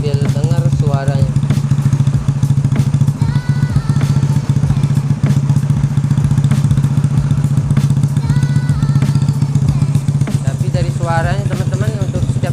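A Honda C70 motorcycle fitted with a Shogun Edo Pro racing CDI idles loudly up close and blips its throttle in several quick revs, with a faint voice now and then underneath.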